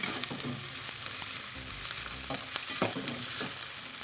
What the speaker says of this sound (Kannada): ಕ್ಲೀನಾಗಿ ರೋಸ್ಟ್ ಆಗಬೇಕು ಈರುಳ್ಳಿ.